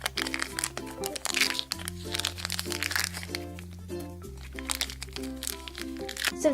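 Glossy, clicky slime is squeezed and worked by hand, giving rapid, close crackling and popping clicks. The clicks come in irregular bursts over steady background music.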